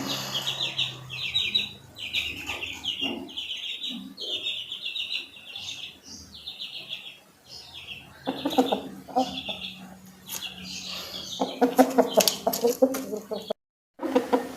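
Repeated chirpy calls, a chicken's soft clucks, recur in short bursts as the chicken is held for treatment, with a person talking nearby partway through and some handling noise.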